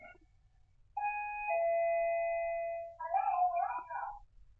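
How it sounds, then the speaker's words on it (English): Electronic alarm bell on a cat door chimes in a sustained two-tone ring, followed by a brighter warbling burst, clear and close in an otherwise quiet room. "Make the bell go, and the cat went."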